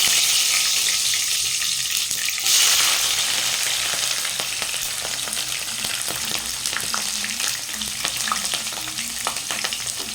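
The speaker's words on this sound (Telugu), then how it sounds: "ప్యాన్ హీట్ ఎక్కింది కదా ఇప్పుడు మసాలాలు వేసుకుందాం బగారాకు సాజీరా" Whole spices, including bay leaf and shahi jeera, hit hot oil in a pan and sizzle loudly and steadily, with a surge of crackling partway through and scattered stirring clicks, no voices.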